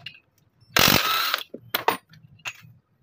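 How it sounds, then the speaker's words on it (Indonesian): Tools working on the engine of a Honda Beat ESP scooter during disassembly: a loud, sustained ratcheting burst of about three quarters of a second, then several short metallic clicks and taps, all close by with no talk. "Buka bautnya. Baut ini."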